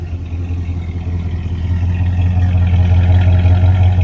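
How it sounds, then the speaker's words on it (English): 1965 Chevrolet C10 short bed pickup engine idling with a low, steady rumble, swelling a little louder partway through as it revs gently, close by and with no talk. "I want to start it up, let you guys hear it run right now."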